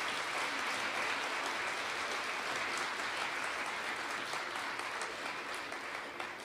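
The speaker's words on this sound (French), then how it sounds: "Donc on peut les applaudir." An audience claps steadily for drawing contest winners, including a daycare group, at a French pride week ceremony. The applause is dense and continuous for the whole stretch, heard from within a fairly distant crowd with no voices over it.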